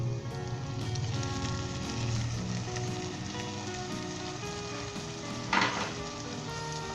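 Tomatoes, green chilies, finely chopped ginger and spices fry in a hot pan with a steady, dense sizzle, and a brief louder scrape of stirring partway through.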